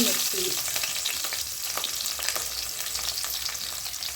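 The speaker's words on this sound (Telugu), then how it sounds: "ఒక మిడిల్ సైజ్ పెద్ద ఆనియన్ వేసి మంచిగా వేయించుకోవాలి" Onion frying in hot oil with spices such as cardamom, bay leaves and cumin, producing a dense, continuous crackling sizzle with faint utensil clicks, close and unbroken, no voices.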